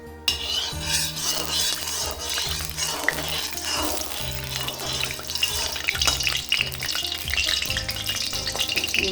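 Steady frying sizzle of ghee in a hot wok fills the whole clip, dense and close, with music playing underneath and occasional light clinks of a utensil.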